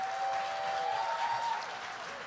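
Audience applause for a poet at a high school poetry slam, a steady wash of many hands clapping that holds throughout and eases slightly toward the end, with a faint tonal whine running beneath.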